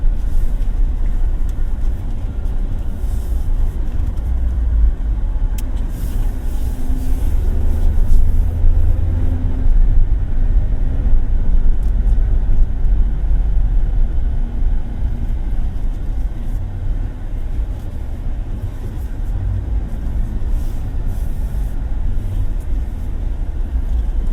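Inside a Suzuki Jimny 5-door GLX with a 1.5 engine, a constant low cabin drone and road rumble continue steadily for the whole stretch on the move, with no talking.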